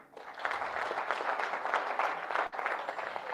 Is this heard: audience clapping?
yes